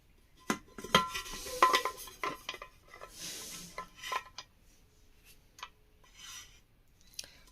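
Metal clinks, scrapes and rubbing come from fitting a handle onto an old 12-year-old pressure cooker lid, as scattered close knocks and rasps with quiet pauses in between.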